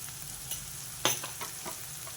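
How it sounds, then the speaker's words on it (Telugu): Onions fry with turmeric in a pan for a tender tamarind-leaf curry, giving a soft, steady sizzle with a few light stirring scrapes and one sharper clink, heard alone. "ఈ మాత్రం వేగితే చాలండి ఉల్లిపాయలు ఇంకా వేగాల్సిన అవసరం లేదు ఇప్పుడు దీంట్లో పసుపు వేసుకుంటున్నా"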